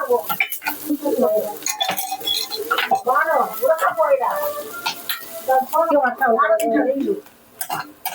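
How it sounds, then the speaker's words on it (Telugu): Onions sizzling and being stirred in a hot pan while cooking a Rayalaseema-style nalleru pachadi, with a steady fry hiss and scraping, clattering spoon strokes, loud and close under continuous speech. "లైట్గా వేగాలి, చూడండి ఇట్లా ఉండాలి"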